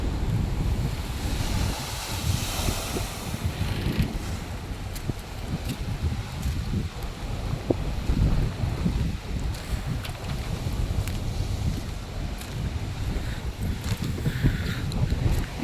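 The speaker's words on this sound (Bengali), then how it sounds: "কত সুন্দর জলের ঢেউগুলো।" Sea waves surge and wash under strong, gusty wind on the open sea, with wind buffeting the microphone; a steady, loud roar runs throughout with no voices.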